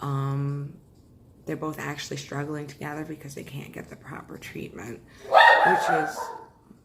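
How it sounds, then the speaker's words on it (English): Dogs barking in a home, a short loud burst near the end of the clip, after a higher whining yelp at the start, with a person talking steadily between and over them. "that's my dog. That's my other dog."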